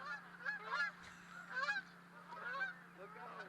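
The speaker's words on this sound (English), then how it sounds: "As the gander of geese flies across." A flock of geese honks repeatedly as it flies over a high school baseball game, the calls rising and falling in bursts above a steady low hum, with no talking.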